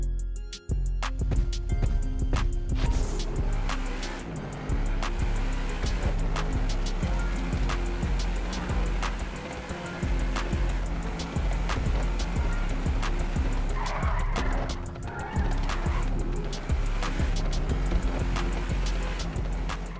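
A car engine revs and roars through a test race in GTA 5, with repeated gear shifts and tire skids across a steady, loud motor drone, no talking.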